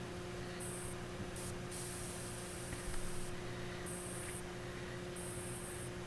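Spray paint applied as a second coat to a toy car chassis, short bursts of hissing aerosol repeating several times over a steady low background hum, close and fairly quiet.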